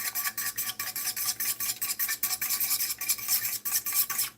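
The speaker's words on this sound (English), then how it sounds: "If you don't whisk your eggs, you'll have trouble making an omelet." Eggs being whisked for an omelet, a fork or whisk clattering against a bowl in quick repeated strokes, close and steady with no talk.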